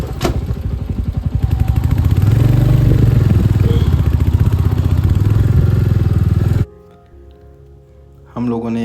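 A motorcycle engine labours loudly along a rough, uneven dirt trail in Bihar, with rattling clatter throughout, then cuts off abruptly near the end before a brief noisy resumption.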